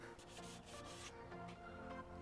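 Steady abrasive rubbing of sandpaper against a Jeep's car body, continuous and fairly close, with a back-and-forth texture and no voices.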